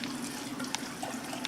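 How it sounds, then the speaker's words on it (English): Water trickles and drains off soaked alfalfa seeds being rinsed for sprouting, a steady close running-water sound like a tap over a sink, with no speech. "So now I'm going to put them here and start draining them off."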